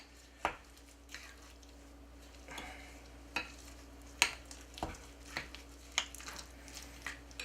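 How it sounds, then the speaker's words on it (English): Egg and milk being mixed in a bowl to break the yolk, a series of sharp, irregular taps and clicks of a utensil against the bowl over a low steady hum, close and moderately quiet, no talking. "Just mix it up, breaking the yolk."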